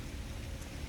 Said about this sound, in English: In fact, it's raining right now.